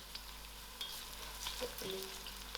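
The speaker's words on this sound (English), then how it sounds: "I'll allow this cinnamon to fry a little." Onions and cinnamon fry quietly in oil in a pot for jackfruit biryani, with a soft sizzle and a few light stirring taps and scrapes, heard alone.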